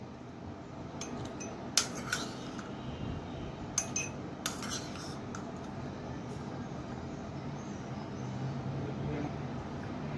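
Seedless ripe red watermelon pieces dropped into a serving glass, giving a few sharp glassy clinks and taps spaced apart, with someone talking over a soft kitchen background.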